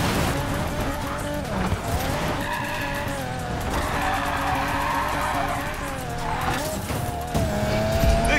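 Tires screech continuously as a car drifts in Need for Speed Payback, the squeal wavering and rising over a steady roaring engine for the full stretch, loud and close, with brief surges near the end.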